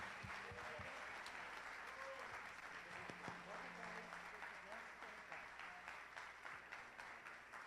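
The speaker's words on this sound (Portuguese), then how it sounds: "Você pode aplaudir a Jesus pela vida do pastor?" A church congregation applauding, a sustained wash of many hands clapping throughout, fairly distant and even, with a voice speaking faintly over it.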